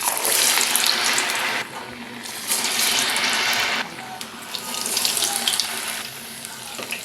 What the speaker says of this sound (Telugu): ఆయిల్ హీట్ అయిందో లేదో ఇప్పుడు ఒక్కొక్క గారిని వేసేసుకోవాలి